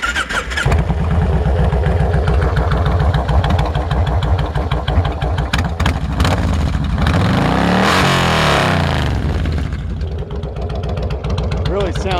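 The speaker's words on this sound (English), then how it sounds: "This bike just cranks right up, and it cranks when you push the start button and not the horn." A 2002 Kawasaki Drifter motorcycle engine cranks and catches, then runs with a steady, loud, close rumble and a brief rise in revs near the end.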